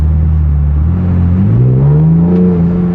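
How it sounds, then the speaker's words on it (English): An Infiniti car accelerates hard close by. A whirring turbo spool rises first, and then a deep exhaust drone climbs in pitch and takes over, staying loud throughout. "you can hear the spool a little bit before the exhaust, I feel like, starts taking over the noise"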